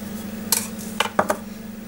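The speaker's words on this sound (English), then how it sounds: "I'm just going to beat that with my knife just to mix that up" An egg is beaten with a knife for scone dough, giving a few quick clinks and taps against a dish over a steady low hum, close and brief.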